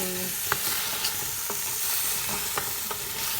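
Vegetables for a butternut squash soup are stirred in a pot over steady frying sizzle, with several soft scraping strokes spaced through the stretch.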